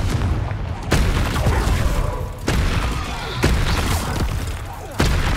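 Spell blasts from the Hogwarts Legacy video game, fiery Confringo explosions, land as four sharp booming impacts at roughly one-second intervals, each a loud broadband burst over a dense, continuous backdrop of game effects.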